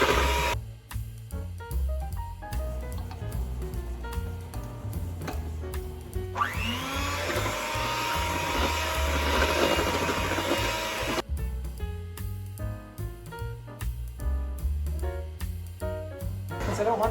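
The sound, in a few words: electric mixer running on speed 1, mixing gingerbread cake batter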